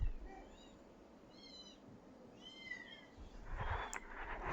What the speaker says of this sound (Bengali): সেই ছানাগুলো আওয়াজ করছে।